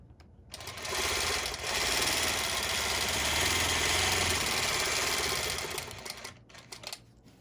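A longarm quilting machine stitches a pocket pebbler stones pattern, its fast mechanical chatter ramping up, running steadily for about five seconds, then slowing to a stop.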